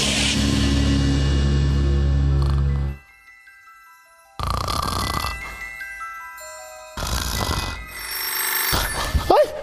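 A telephone bell rings loudly and nearby in several long bursts separated by silent gaps, the bright metallic ringing sounding alone.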